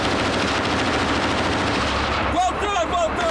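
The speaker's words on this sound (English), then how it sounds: "And the machine gun," A tank's machine gun firing at night in bursts, loud and continuous rattling gunfire that fills the whole stretch, with a brief change in tone near the end.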